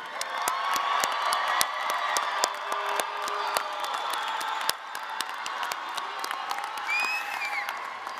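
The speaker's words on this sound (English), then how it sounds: "Shall we give them one more big grand round of applause?" Sustained audience applause fills a graduation ceremony in a performing arts center, dense clapping with scattered whoops and cheers running steadily throughout.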